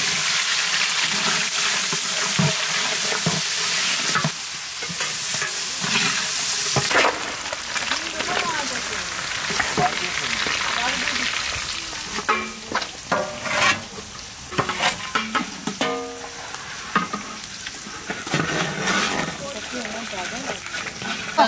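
Onions frying in oil with whole cumin and garam masala in a village kitchen: a loud, dense sizzle fills the opening, then eases into a crackling fry broken by stirring clatters and splashes.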